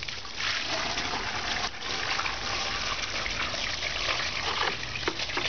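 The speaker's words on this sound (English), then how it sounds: "And pour it out again." Water gushes and splashes out of a bucket of play sand in a continuous pour, with a brief dip partway through.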